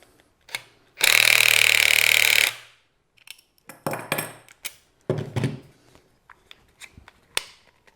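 Wrench clamping a drill chuck onto a Phillips bit on a quick-release handle build: a loud whirring burst of about a second and a half, then scattered close metallic clicks and taps.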